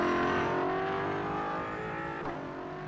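Race car in the iRacing video game, an older-style V8 supercar, with an engine droning at steady high revs and a harmonic whine that dips briefly near the end, heard alone and fairly close.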